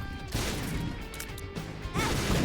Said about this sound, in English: Nope, we are not immune to our own explosions